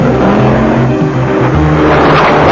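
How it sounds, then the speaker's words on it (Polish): An Audi rally car roars loudly and close during the 1995 Wisła Rally in Poland, its engine note rising and falling through gear changes over a steady, dense mechanical din, with no voices. "Głośny porykując swym Audi rajd kończy na 9 miejscu Lech Poraszewski."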